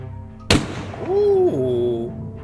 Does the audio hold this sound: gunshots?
yes